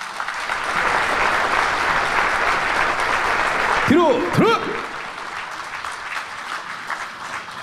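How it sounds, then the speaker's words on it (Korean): Dense audience applause after a military-civilian taekwondo demonstration at an Armed Forces Day ceremony, steady and loud, briefly broken by a shouted command over a loudspeaker before the clapping thins slightly. "태권도 시범을 선보인 민군 통합 시범단에게 다시 한번 뜨거운 박수와 성원 부탁드립니다."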